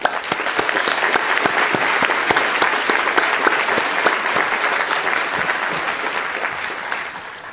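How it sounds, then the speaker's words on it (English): Steady applause from a graduation commencement audience, dense and sustained for the whole stretch, loud and close, with no voices over it. "Let's take a moment to thank them with a round of applause."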